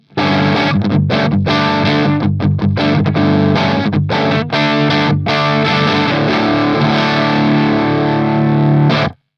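Loud, heavily distorted electric guitar on the bridge humbucker through a REVV D20 amp, playing crunchy rock chords and riffs with brief choppy gaps, ringing out before stopping abruptly.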